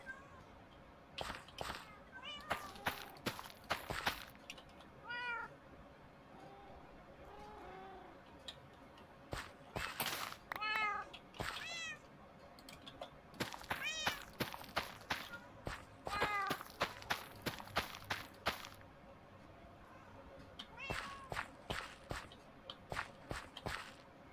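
Minecraft cats meow now and then between rapid clicky footstep-like taps and game sounds. The meows are short and mid-level, scattered across a busy, rhythmic stretch.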